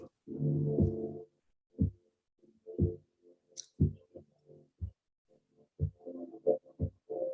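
An ambient track plays softly, a deep heartbeat-like pulse thudding roughly once per second with gentle sustained tones between the beats.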